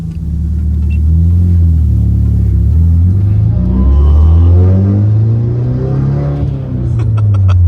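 A Nissan S15 Silvia kaido racer rumbles with a deep, loud engine note, its revs rising and falling in smooth sweeps and heard close from inside the car.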